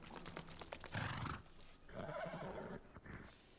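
A horse whinnies loudly and repeatedly in a scene from The Rings of Power series, with hoof clip-clops and movement mixed in, close and agitated across the whole stretch.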